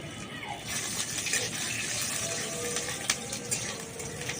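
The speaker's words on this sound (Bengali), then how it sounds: "এক টুকরো আদাটাকে দিয়ে ভেজে নেব" Ginger, cashews and raisins sizzle in a hot pan, giving a steady dense crackle throughout, with a few sharper pops rising above it.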